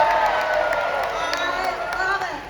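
A theme-park stunt show audience at Disney's Hollywood Studios claps, cheers and whoops together, a dense loud roar of crowd noise with scattered shrill screams rising over it.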